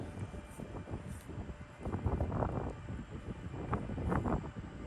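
Blustery wind buffets the microphone on an open disc golf course in Austin, Texas, a steady low rumble with gusty swells and no talking.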